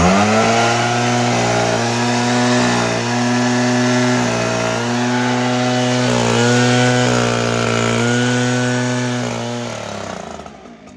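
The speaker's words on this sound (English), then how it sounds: "Man, I love this blower, not only because it has so much power" A leaf blower runs loud and close with a steady droning engine whine that rises and falls slightly in pitch, then fades out as it shuts off at the end.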